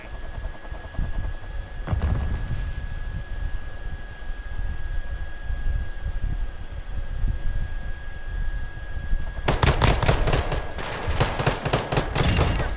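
Rapid bursts of SMG fire from close-quarters online play in Modern Warfare 2, loud and dense, with a heavy cluster of shots near the end over a steady background of battle noise.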